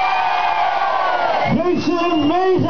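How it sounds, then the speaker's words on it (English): Audience applause and cheering at a live concert, with a sustained crowd roar that swells into rhythmic, pulsing clapping and whoops in the second half, loud and close. "It's an amazing applause"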